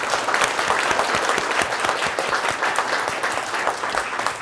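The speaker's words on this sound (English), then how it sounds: "Let's give him a round of applause." An audience at a public policy panel on obesity in Canada gives sustained applause for the moderator, with dense, steady clapping throughout and no speech.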